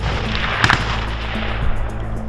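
Gunfire from a live-fire training exercise by Ukrainian security forces and territorial defence volunteers near the Belarusian border, at roughly 100 metres range: a short cluster of sharp reports over steady wind and low outdoor rumble, with no talk.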